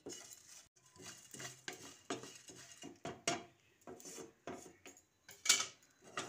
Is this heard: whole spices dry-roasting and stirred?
yes